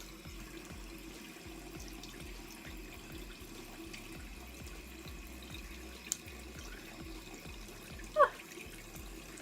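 Clear plastic Invisalign aligners rinsed under a running household tap: a steady, close water rush that continues evenly throughout, with a brief sharp clink or splash near the end and no talking.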